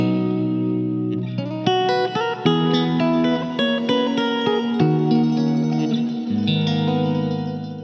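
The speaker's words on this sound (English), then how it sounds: "The distortion sound is very particular too." An electric guitar plays heavily distorted, sustained chords and notes with some echo, loud and alone with no voices.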